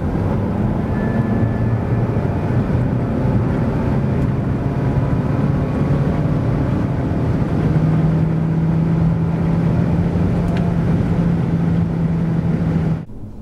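A 2023 Mitsubishi ASX with a 1.3 liter 158 hp engine accelerating from 90 to 140 km/h, a steady engine drone slowly rising in pitch over heavy road and wind noise, loud and continuous until it cuts off.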